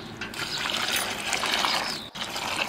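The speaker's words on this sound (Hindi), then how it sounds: "अब इसको दो तीन पानी हम धो देंगे।" Chopped karemua greens being washed in a pot of water in a home kitchen, a continuous splashing and trickling of water with a brief pause near the end.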